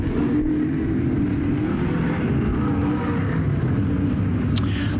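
Sprint cars race around the dirt oval at Crystal Motor Speedway, a dense, steady engine roar that holds loud and unbroken, the pack sounding fairly distant with no clear individual passes.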